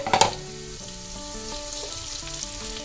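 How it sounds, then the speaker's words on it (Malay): Shallots and garlic saute in a hot pan for an egg and potato breakfast, a close, steady frying sizzle that opens with a brief clatter, while faint tonal hum runs underneath. "So, tumis bawang kita ni."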